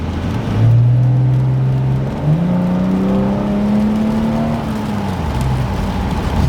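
A Mercedes-Benz car engine accelerates steadily, its note climbing through several gear pulls as the revs rise and ease off; it is loud and close, with no talk.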